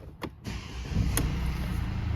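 Mercedes C Class diesel with DPF and AdBlue faults starting up: a couple of short clicks, then the engine catches and settles into a steady low diesel idle, close and on its own.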